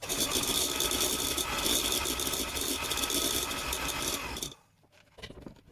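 An electric mixer whirs steadily up close while mixing butter cookie dough with raw egg yolk, a continuous buzzing hum with slight rattle that stops abruptly near the end, followed by faint handling noises.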